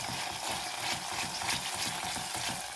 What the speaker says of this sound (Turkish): Salçamı iyicene kavuruyorum. Kokusu gelesiye kadar.